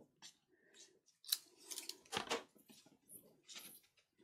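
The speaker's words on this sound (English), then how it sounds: "I'm not sure my decolage scissors like cutting this, but they're doing it" Decorative scissors cut through paper for a craft file folder, making a few quiet, close snips and crisp slicing strokes spread unevenly over a few seconds, with no talking.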